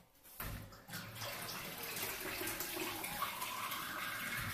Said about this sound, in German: Da kommt jetzt ein Glas warme Milch rein.